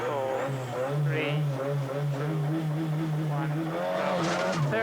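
A Ford rally car's engine revs and dips as it pulls off a stage start line at the 1990 Mobil 1 Rally Challenge, a steady droning note with shifting pitch, heard close and loud throughout with faint noise over it.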